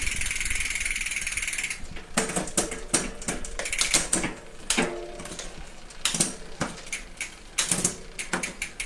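A SRAM Eagle bicycle rear derailleur shifter clicks through gears, with a series of crisp, close mechanical clicks and ratcheting snaps in irregular bursts, loud and without voices.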